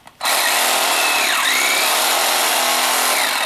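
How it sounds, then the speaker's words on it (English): A standard cordless sawzall prop fitted with a polyurethane blade starts after a brief pause and runs at a loud, continuous, buzzing whir close by, its pitch shifting slightly. "This is just a standard cordless sawzall that we've painted up look nasty"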